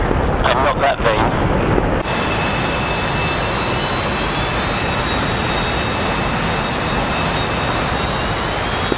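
A jet aircraft in DCS World rolls for takeoff, a loud, continuous engine roar with a high whine that holds steady for several seconds after a brief shift near the start.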